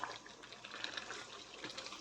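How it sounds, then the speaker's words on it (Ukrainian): Tap water runs steadily into a pot being filled for cooking spaghetti in a home kitchen, a continuous close splashing rush with no talking. "І зараз ставлю ще воду на шпагеті."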